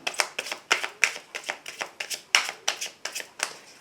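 A deck of tarot cards is shuffled by hand, a quick rhythmic run of crisp riffling flicks repeating about four times a second, close and clear with no talk.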